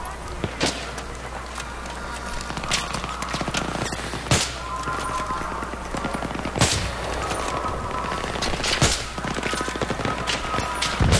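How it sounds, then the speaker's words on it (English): Gunfire in the Battlefield 3 campaign, a battle across a playground with sharp shots and bursts cracking over a steady din of combat, loud and continuous throughout. "I'm shooting at them."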